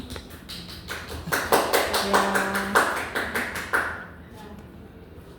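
A classroom group claps together for the first presenting group, a quick run of sharp, rhythmic claps in a patterned beat that builds and then stops, with a brief voice near the end.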